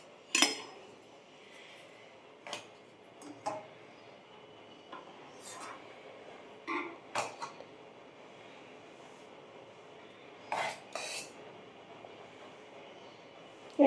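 Rice being served at home with metal utensils, several short scrapes and clinks against dishes scattered among quiet gaps, close and moderately loud, no speech.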